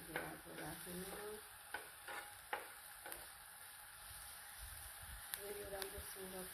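Ingredients with ginger frying in a pan before spaghetti goes in, a soft steady sizzle with occasional spoon knocks and scrapes from stirring, close but quiet, and a voice speaks faintly at times.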